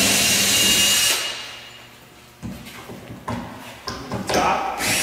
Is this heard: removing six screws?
yes